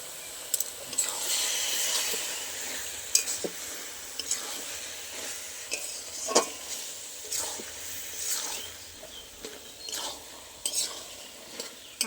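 Cabbage ghonto stir-fried in a pan, with steady sizzling and repeated scraping stirs from a spatula, close and moderately loud, with no talk.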